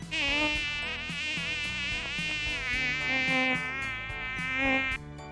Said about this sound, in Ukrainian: Разом з ним вилітали його друзі, такі самі комарі. Вітаючи один одного, вони дзвеніли.